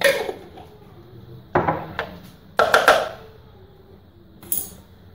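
Bowl and small spoon handled while apricot jam is added: a few sharp clinks and knocks of the spoon against the bowl, spaced apart and close by, with quiet pauses between.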